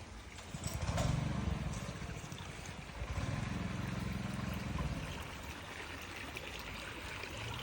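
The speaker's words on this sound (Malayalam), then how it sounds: "കണ്ണീര് പോലത്തെ വെള്ളം ഒഴുകുന്നുണ്ട്." Water runs steadily through a channel in a banana plantation in Salalah, a continuous close trickling flow over a low rumble that swells slightly in places, with no voices.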